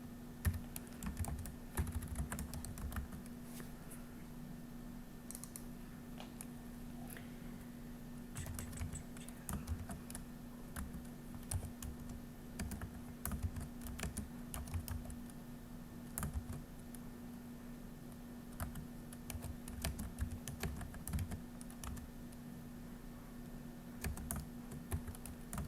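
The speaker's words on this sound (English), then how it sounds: "The next one I'm going to type in." Steady typing on a computer keyboard while entering figures into an Excel accounting spreadsheet, with continuous close key clicks and a few louder keystrokes over about 25 seconds, no speech.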